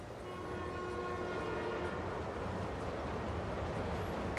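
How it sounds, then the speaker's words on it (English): A train passes in Marvel's Spider-Man 2, with a steady loud rumble of rolling cars and a sustained horn-like tone early on, continuous throughout with no talking. "I'll catch the next train."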